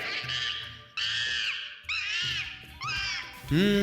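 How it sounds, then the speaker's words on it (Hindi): A cartoon monkey in an animated folk tale screams in pain after its tail breaks, giving a run of loud, wavering high-pitched shrieks in several bursts over background music. "वह चीखता हुआ टूटी पूंछ लेकर यहां वहां भागा"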